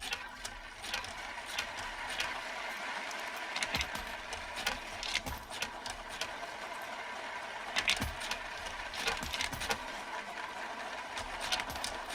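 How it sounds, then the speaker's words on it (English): Dense clattering jingle of coins rolling and dropping inside an arcade coin machine at Dave & Buster's, continuous with sharper metallic clinks scattered throughout, over a busy background. "If the ocean sound like rolling coins."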